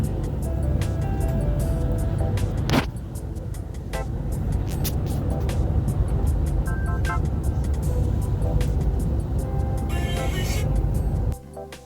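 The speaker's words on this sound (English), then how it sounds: "So we ourselves found ourselves on one of those tour buses." Inside a tour bus driving through the Israeli countryside toward Jerusalem, a steady loud engine and road rumble runs throughout with occasional clicks and a brief bump, and no talk.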